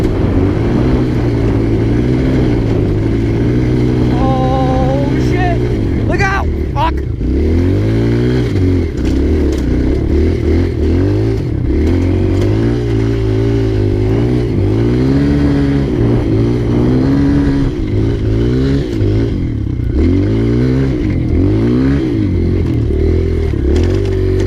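A dirt bike engine ridden through snow revs hard and repeatedly, its pitch surging and dropping in quick cycles, loud and near throughout.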